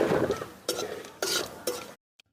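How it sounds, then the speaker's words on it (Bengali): Bay leaves, cardamom and black cumin crackle in hot oil for a grape chutney, three sharp bursts of sizzling rising over a softer frying hiss, then cutting off. "তেলে দিয়ে দিচ্ছি দুটো তেজপাতা, এলাচ। তো বন্ধুরা দেখুন, কটা কালো জিরে দিয়ে দিচ্ছে।"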